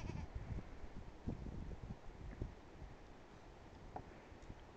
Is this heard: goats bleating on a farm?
yes